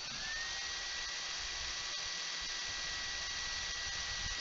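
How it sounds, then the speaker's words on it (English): An electric drill whines steadily while winding wire, a thin, sustained motor tone that stays fairly even throughout, with no voices. "Even though the drill sounds slow, it's moving pretty quick now."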